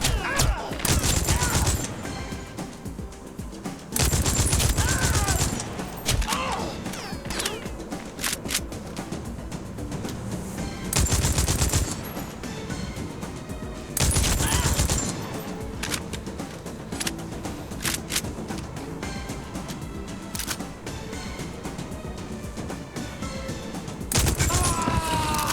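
Gunfire from a regular gun in TimeSplitters Rewind, a shooter game, with several loud bursts of rapid shots breaking out between stretches of quieter game sounds and scattered clatter.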